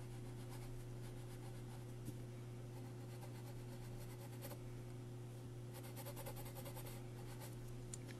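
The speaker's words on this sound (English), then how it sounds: "Just drawing some eyebrows here." Pencil sketching eyebrows on a portrait drawing, a soft continuous scratching and rubbing of graphite on paper over a steady low electrical hum, with no talking.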